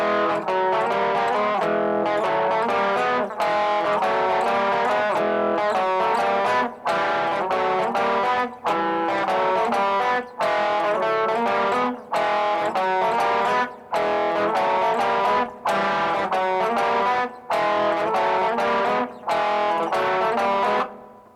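A distorted electric guitar plays a brisk horn solo line, note after note with short pauses between phrases, loud and upfront.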